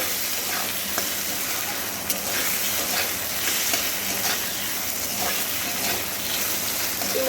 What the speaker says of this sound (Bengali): আবার একটু তেলের মধ্যে নাড়িয়ে নেব